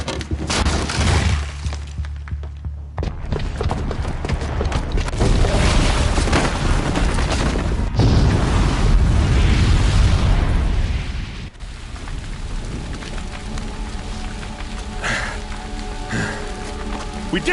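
Booby-trapped bomb going off in the video game Horizon Zero Dawn: a huge, sustained roaring blast with crashing, shattering debris that rumbles on for several seconds before settling into a lower crackling din.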